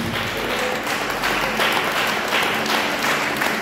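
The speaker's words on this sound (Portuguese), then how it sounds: "Você crê, concorda, aplaude o nome de Jesus." Church congregation at a Sunday service applauds loudly, a thick, sustained wash of clapping from a large crowd with faint voices mixed in.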